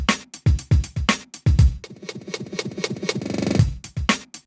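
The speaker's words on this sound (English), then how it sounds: "So let's just take a look at this with a drum loop." A breakbeat drum loop with punchy kicks, crisp snares and a busy stuttering middle section, played loud and dry with no talking.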